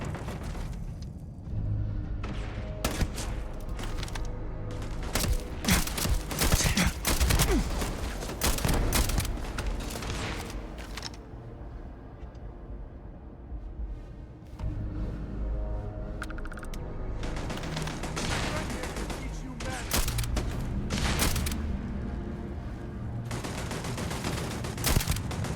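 Rapid gunfire in the space shooter game Starfield, bursts of automatic shots and heavier booms in clustered volleys with short lulls between, steady and loud throughout.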